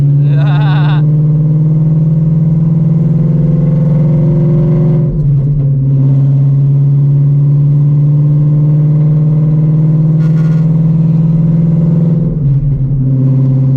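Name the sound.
950HP Shelby GT350 engine accelerating in third gear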